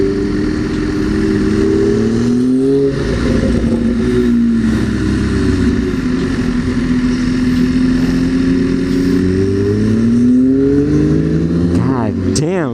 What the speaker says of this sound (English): now that is a nice Porsche